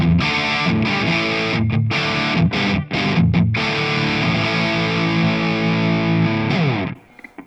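An electric guitar plays heavy, sustained distorted chords through a Vox Night Train 15H G2 valve head on the dark switch with high gain, loud and dense, with a few short muted breaks before the last chord fades.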